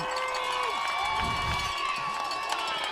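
Football fans cheering in a high school stadium at a Connellsville game, a steady crowd roar with shouts and tonal whistles, fairly close and continuous.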